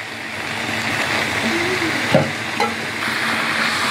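Chicken pieces frying in hot oil for a Bengali chicken curry, a loud steady sizzle with a couple of brief knocks of a utensil against the pan and faint tonal background noise.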